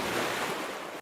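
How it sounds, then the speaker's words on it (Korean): Sea waves crash and splash against a ship's bow in a loud, dense rush of water and spray, lasting about a second before cutting off abruptly. "뱃머리에 부딪히는 파도 소리가 구슬프게 메아리치고"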